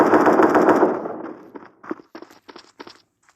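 Rapid automatic gunfire in the shooter game Special Forces Group 2, a dense burst of shots fading out, followed by several sharp separate shots and footsteps.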